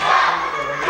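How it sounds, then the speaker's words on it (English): A wrestling crowd in McKeesport jeers classic Chris Helmsly, a brief, loud, sustained roar of many voices. "this McKeesport crowd voicing how they feel about one classic Chris Helmsly"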